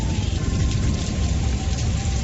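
Heavy rain pours down on a stormy night, a dense, loud and unbroken hiss of falling water that stays steady throughout with no voices.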